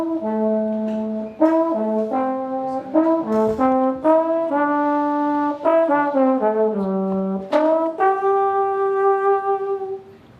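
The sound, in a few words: tenor trombone played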